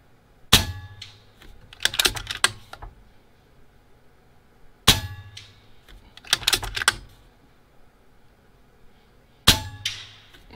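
Air rifle shots fired at a revolver cylinder on a table, three sharp loud cracks spaced several seconds apart, each followed by clattering metallic impacts and rattles nearby.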